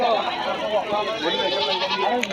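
A goat bleats amid busy crowd chatter at a goat market, with voices talking throughout in a lively outdoor setting.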